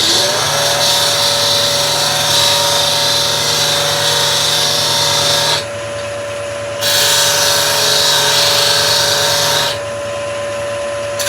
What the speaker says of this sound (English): grinder.